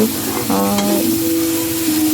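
Whole bay leaf, cardamom, cinnamon, pepper and cloves frying with onion, a steady close sizzle with a low humming tone running underneath.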